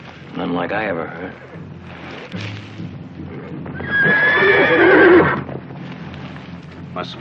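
A stallion whinnies loudly in a western setting, a long, shrill neigh rising out of other horse snorts and hoof clopping, with people talking nearby.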